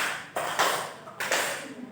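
Sharp hand claps in a classroom-style counting demonstration, a few crisp, close claps spaced unevenly over two seconds, with no voice over them.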